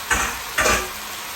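Fresh sliced tomatoes dropped into a simmering lamb stew, two quick soft splashing sizzles a half-second apart over a steady cooking hiss.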